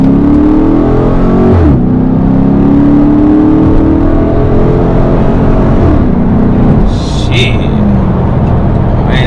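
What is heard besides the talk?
Dodge RT Hemi car accelerating on highway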